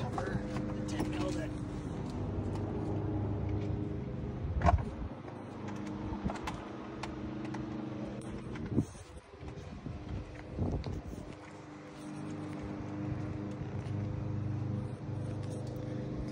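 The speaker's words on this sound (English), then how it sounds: "This is a 175 Yamaha vmax, and now it's tuned to 240 horsepower" A tuned Yamaha VMax SHO 175hp outboard boat engine, remapped to 240 horsepower, runs with a steady low droning hum. Voices and a few clattering knocks sit over the continuous engine note.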